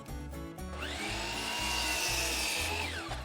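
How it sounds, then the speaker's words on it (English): A power saw spins up with a rising whine and cuts through a landscape timber, a steady loud buzzing cut of a couple of seconds over a low rhythmic hum, then winds down. "cut a landscape timber to about 24 inches"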